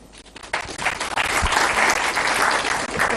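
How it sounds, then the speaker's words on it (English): Loud, dense applause from an audience at a university student question session, swelling quickly into a sustained, close roar of many hands clapping. "this one generally deserves a clap"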